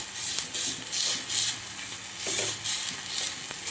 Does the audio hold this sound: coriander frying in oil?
yes